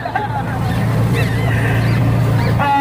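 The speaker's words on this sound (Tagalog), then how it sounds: "Ang music ko po itong motor ng truck" A truck's motor runs at a steady, loud low rumble at an outdoor political protest, its hum filling the background continuously while a voice sings or speaks over it.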